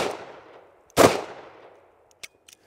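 A single loud, close gunshot from a Taurus Executive Grade 865 revolver cracks sharply and decays quickly, followed by a couple of small clicks; no talk is heard.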